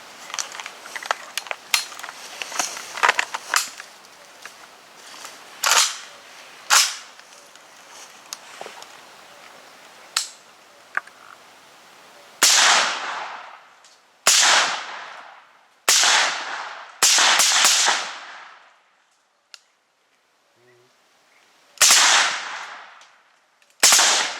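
A series of sharp, muffled AK-74 rifle shots, some single and some in quick pairs, ring out against a quiet outdoor background, dulled by a 5.45 suppressor.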